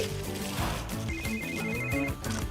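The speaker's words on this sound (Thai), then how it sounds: "มือถือฉัน อีกแล้วนะแมนดี้" A mobile phone rings in a cartoon scene, a bright repeating electronic ringtone melody sounding clearly for a couple of seconds over a soft background, with no one speaking.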